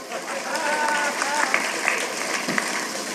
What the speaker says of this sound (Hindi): ताली तो आप इस बात पर बजाओगे